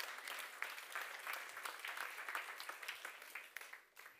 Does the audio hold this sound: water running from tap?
no